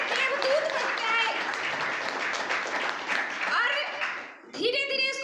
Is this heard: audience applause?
yes